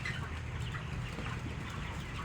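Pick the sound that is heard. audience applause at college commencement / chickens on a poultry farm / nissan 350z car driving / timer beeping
chickens on a poultry farm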